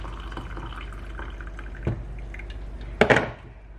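Boiled water poured from a kettle into a cup gives a brief liquid splash and trickle with a couple of drips, heard close and alone over a low steady background.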